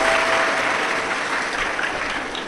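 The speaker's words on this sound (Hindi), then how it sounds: "एक बार जोरदार ताली बजाकर इन सभी यजमान परिवार के लिए साधुता।" Loud applause from a large crowd at a Shiv Mahapuran religious gathering, honoring the host families. Dense, steady clapping fills the whole stretch without pause.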